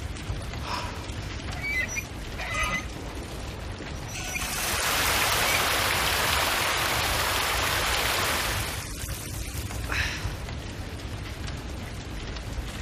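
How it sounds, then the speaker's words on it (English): Rain in the video game Resident Evil 2 Remake, a steady hissing downpour that swells loud and close for several seconds in the middle before easing back to a softer wash. "it's raining"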